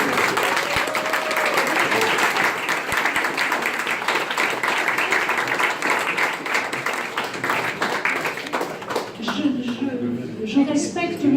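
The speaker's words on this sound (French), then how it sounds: "On peut déjà applaudir." A standing audience applauds at a literary prize ceremony for the best foreign novel, dense steady clapping filling the room at close range before thinning toward the end, with a few voices surfacing as it fades.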